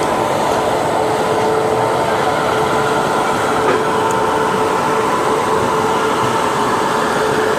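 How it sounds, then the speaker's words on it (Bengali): A passenger train runs nonstop between Katpadi and Jolarpettai, heard from inside a general coach as a loud, constant rumble and rattle with a faint rhythmic clatter of the wheels. "আবার কাটপাট্টি থেকে ট্রেনটা ছেড়ে দিল"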